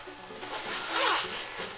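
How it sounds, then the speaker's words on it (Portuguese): A zipper on a small, simple cosmetic pouch is pulled open in one smooth, close, quiet run lasting under two seconds, with no voices over it. "Aqui é o zíper dela."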